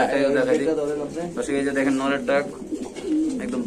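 Pigeons coo at a busy pigeon market, soft repeated warbling calls mixed with the bustle of traders, while people talk nearby throughout.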